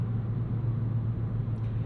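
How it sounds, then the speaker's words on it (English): Steady low engine drone piped into the cabin of a 2022 Kia Forte GT in sport mode, a constant rumbling hum under road noise with no talking. "you do get a little bit of piped-in noise in sport mode, but it's not a bad piped-in noise"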